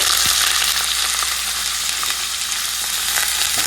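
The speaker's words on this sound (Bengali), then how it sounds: "এই যে দেখো ফ্রাইড রাইসের ভাজাটা করবো" Carrots, beans and capsicum fry in oil in a nonstick pan for fried rice, a steady, dense sizzle running loud and unbroken throughout with faint stirring clicks and no voices.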